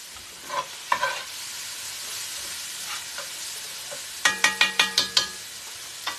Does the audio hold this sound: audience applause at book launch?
no